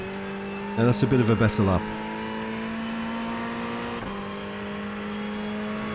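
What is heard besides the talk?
Ferrari 488 GT3 Evo engine accelerating in iRacing video game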